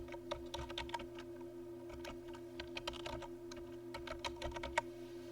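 Steady, close typing on a computer keyboard, a brisk run of crisp key clicks over a faint constant hum, with no talking.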